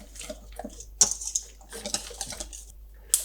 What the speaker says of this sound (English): So I'll add these to the batter and stir it in.